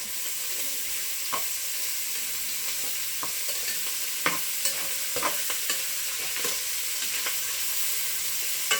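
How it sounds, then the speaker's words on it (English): Bacon and andouille sausage sear and brown in a hot pan, a loud steady sizzle with occasional scraping stirs and clicks close by. "I have the bacon searing and browning."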